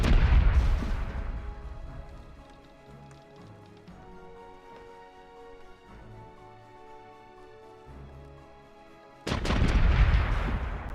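Ship cannons fire in the naval video game Corsairs Legacy: a loud, booming volley opens, game music plays quietly between, and a second heavy burst of cannon fire erupts near the end.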